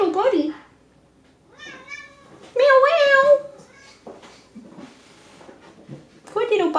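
A domestic cat meows several times, drawn-out tonal cries close to the listener, with quiet gaps and someone talking softly between them.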